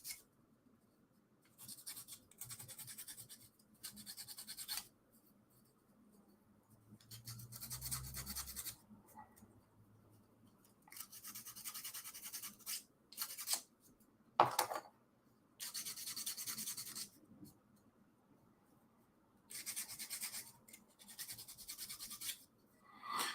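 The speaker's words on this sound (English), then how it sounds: "So I just need to sand these parts down." Wooden rollercoaster model parts being sanded by hand, giving bursts of dry rasping strokes in several separate passes with quiet gaps between, close and moderately loud.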